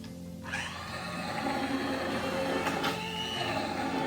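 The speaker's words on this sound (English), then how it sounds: "I put the immersion blender through for 40 seconds" An immersion blender whirs through a zucchini and artichoke soup, starting abruptly and holding a steady, close, buzzing hum for about forty seconds' worth of pulse, with no talking.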